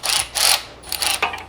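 An electric ratchet spins engine bolts out during an LS engine swap into a Miata, several short bursts of whirring and clicking close up with brief pauses between them.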